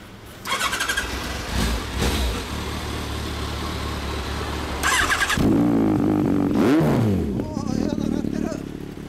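A 2016 Yamaha XJR1300 Final Edition motorcycle engine with an Asahina Racing exhaust idles and rumbles steadily, then revs up with rising and falling pitch, close and loud, with some clattering and voices mixed in.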